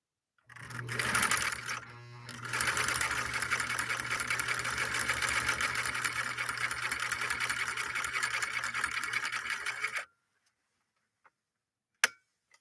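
A 1958 Husqvarna Viking Type 21 sewing machine runs in a workshop with a fast, steady mechanical chatter for about ten seconds, then stops abruptly, followed by silence and a couple of sharp clicks.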